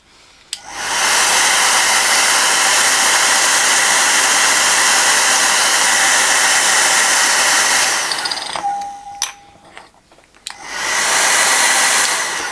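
A hairdryer force-drying freshly painted metal blasts as a loud, steady broadband whoosh for several seconds, cuts off briefly amid faint handling clicks, then roars back on near the end.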